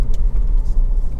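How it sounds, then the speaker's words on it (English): A Honda CR-V 2.0 i-VTEC ES-T automatic 4WD gives a brief, steady low engine and road rumble while being driven on a road test. "this is a quick road test video, and this is for a Honda CR-V 2-litre EST automatic."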